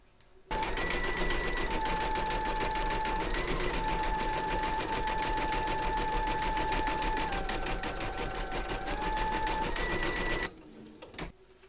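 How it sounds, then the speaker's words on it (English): An embroidery machine stitches a zigzag around raw fabric edges inside a hoop, a steady close whirring hum with a rapid needle rhythm and faint pitch shifts, running alone for about ten seconds before stopping. "We're now going to pop our hoop into our machine and stitch round number 7, and that's going to zigzag all the way around the raw edges"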